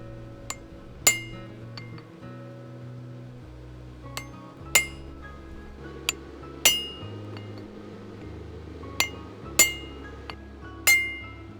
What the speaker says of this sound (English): I am using what is commonly known as a hammer eye punch to do the job